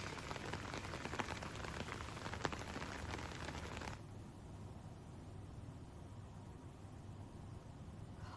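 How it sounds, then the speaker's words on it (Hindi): Heavy rain pours in Agra amid strong winds, a dense steady patter and hiss that drops suddenly partway through to a softer, quieter wash of falling rain. "देर रात से ही झमाझम बारिश हो रही है"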